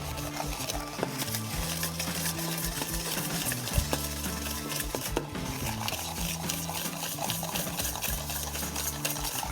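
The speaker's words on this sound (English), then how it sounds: "we're gonna take our sugar, mix it in with our egg yolks" A whisk or spoon stirs sugar into egg yolks in a bowl, a busy continuous scraping and sloshing with irregular clicks against the bowl, fairly close and steady throughout.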